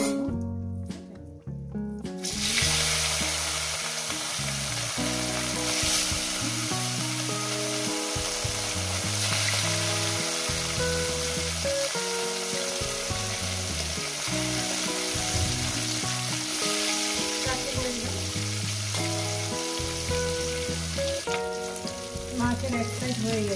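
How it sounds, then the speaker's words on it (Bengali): Pieces of rohu fish fry in hot salted oil with a strong, continuous crackling sizzle that lasts throughout, accompanied by background music. "আর বাদ বাকি চারটে মাছ আমি ভাজিয়ে নিচ্ছি, তেলের মধ্যে ভাজিয়ে নিচ্ছি"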